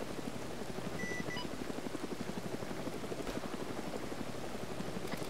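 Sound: helicopter in the video game Arma 3

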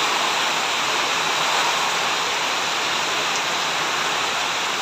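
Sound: heavy rain

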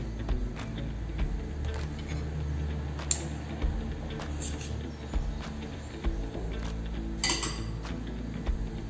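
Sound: spoon clinking in a cup while mixing creamy coffee with hot milk

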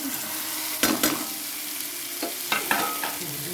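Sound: stirring paneer in cooked masala

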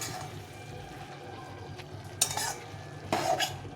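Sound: stirring small fish curry in pan

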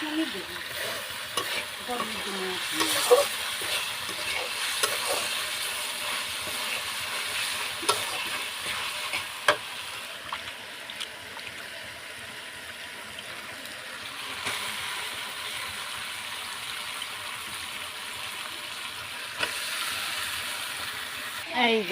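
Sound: stirring and frying taro peels with spices

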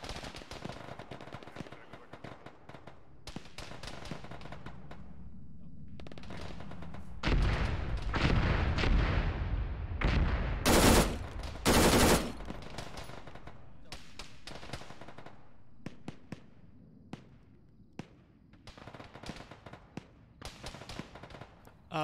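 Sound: gunfire in a military video game

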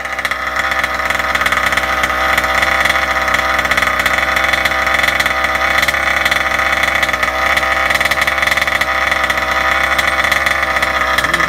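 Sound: Kraken Vekta.5 RC truck engine running during break-in

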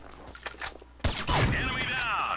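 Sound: gunfire in the video game Combat Arms

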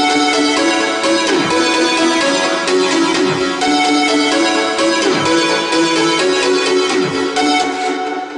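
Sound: trance lead synthesizer melody

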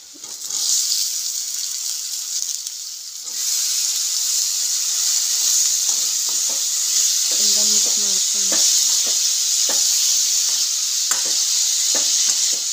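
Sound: tomatoes being added to a sizzling pan

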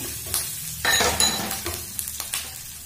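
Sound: green chili sizzling in hot oil, stirred

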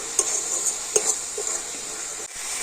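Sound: stirring sweet filling with cardamom in a pan

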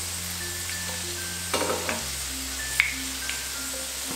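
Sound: chicken koftas frying

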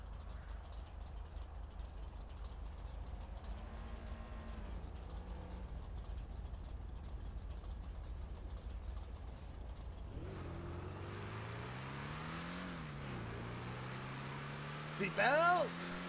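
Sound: car engine idling and revving in a video game

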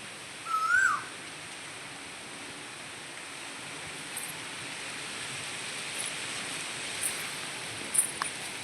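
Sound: Asian koel calling

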